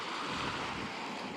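Waves washing onto a nearby beach in North Sumatra, a steady close rushing surf with some wind, heard alone without voices.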